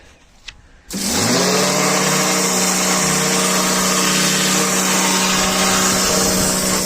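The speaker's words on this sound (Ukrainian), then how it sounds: "Зараз ми ще його трошки кьорхером пройдемося" A Kärcher pressure washer starts abruptly after a brief quiet moment and then sprays steadily, a loud continuous hiss with a droning motor tone, aimed at the tensioner pulley of an Opel engine with a squealing belt.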